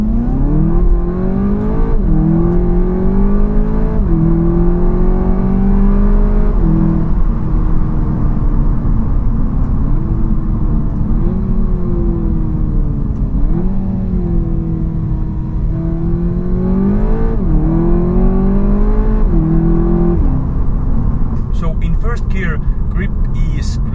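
Engine of a 2015 Seat Leon Cupra 280 ST estate revving up through first gear in manual mode, loud and continuous with repeated rising pulls and gear-limit drops over about twenty seconds, heard from inside the car.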